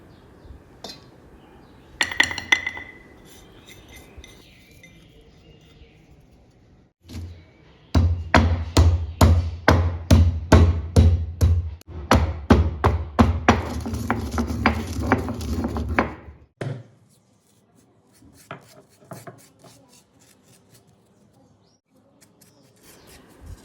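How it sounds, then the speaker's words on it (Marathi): Asafoetida lumps and fenugreek seeds are pounded in a mortar and pestle, a quick run of about twenty sharp, evenly spaced thuds close by, with a few scattered knocks before and after. "त्या खलबत्त्यामध्ये आपण हिंगाचे खडे आणि मेथ्या बारीक करून घेणार आहोत"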